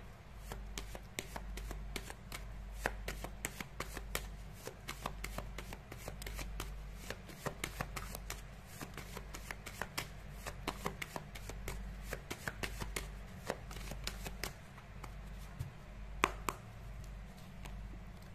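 Oracle cards are shuffled by hand in a quiet room, a long run of rapid, crisp riffling clicks and slaps repeating close to the mic over a low steady hum.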